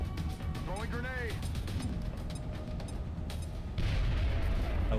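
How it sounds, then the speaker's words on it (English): In the strategy game XCOM Enemy Within with the Long War mod, a grenade is thrown and bursts into a loud, broad blast late in the moment, following busy game effects and a voice. "Throwing grenade."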